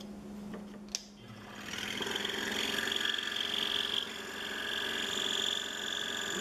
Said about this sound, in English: I have my Excalibur saw up and working.